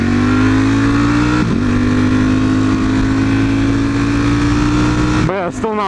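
A superbike V4 engine drones loud and steady as it accelerates under part throttle, its pitch climbing slowly, dipping briefly once, then breaking into a quick warble near the end.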